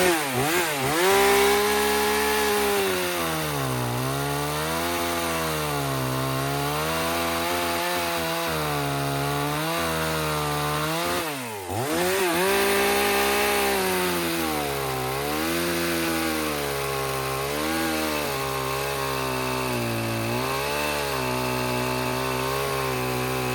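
A two-stroke gas chainsaw cutting firewood runs loud and close, its engine note rising and falling under load through a long steady cut, with a brief dip near the middle before it revs again.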